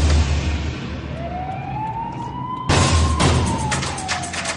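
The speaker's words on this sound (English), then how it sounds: "They get a visual fix on the stolen vehicle and sound their sirens" Police car siren wailing during a chase in Thailand, a loud rising and falling tone under steady traffic rumble, with brief sharp bursts toward the end.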